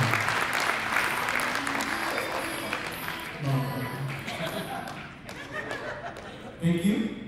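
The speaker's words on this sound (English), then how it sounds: "let's give them a round of applause" An audience claps steadily at the closing of a cold chain association's anniversary event, the applause fairly soft and thinning over several seconds, mixed with light chuckles and some talking.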